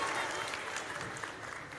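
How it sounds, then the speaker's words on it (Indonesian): An audience applauds at a university talk event, a steady patter of clapping that fades slightly toward the end. "Tepuk tangan sekali lagi untuk Profesor Ova dan juga Kak Najwa Shihab"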